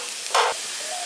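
Beets and carrots frying in a pan for a village-style vegetable chop, a steady close sizzle with a brief louder hiss as the pan is stirred.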